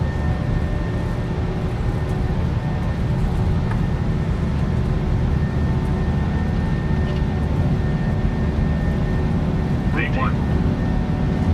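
Aircraft takeoff roll in Microsoft Flight Simulator 2024: a steady, loud broadband engine roar holds throughout with a constant low rumble, while a voice talks over it briefly.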